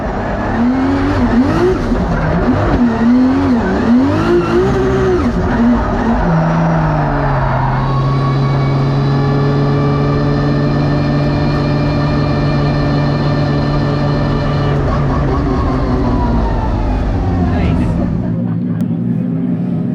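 Formula Drift car at a skills battle, its engine revving with rising and falling pitch before settling into a long, loud, sustained tire squeal as it slides, then dropping away.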